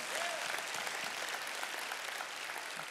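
Church congregation applauding during an Easter sermon, a steady wash of many hands clapping at moderate distance, sustained evenly throughout with no talk over it.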